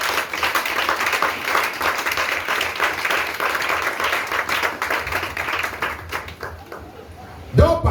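A church congregation applauds in steady, dense clapping for about six seconds before it fades out, ending in a single close thump.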